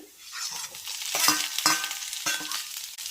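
Boiled potatoes and whole roasted peanuts being stirred together in a pan with a little oil for a dry fasting potato dish, giving soft scraping and light sizzling with several sharper spoon strokes, close and fairly quiet.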